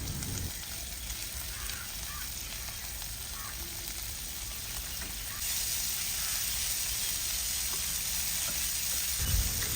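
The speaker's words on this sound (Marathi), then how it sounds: "तळताना असा आवाज आला की समजायचं की आपलं तेल कडकडीत गरम झालेलं होतं" Bombay duck fish frying in very hot oil on a pan, a steady close sizzle and hiss that grows louder midway and carries on without talk.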